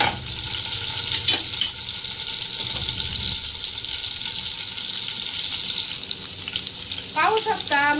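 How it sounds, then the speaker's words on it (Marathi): Green chillies fry in hot oil for a prawn masala, with a loud, steady sizzle and crackle throughout and occasional stirring scrapes, with no voices. "आपण त्याच्यामध्ये लगेच 3 ते 4 हिरव्या मिरच्या आपण परतून घ्यायच्या आहेत व्यवस्थित"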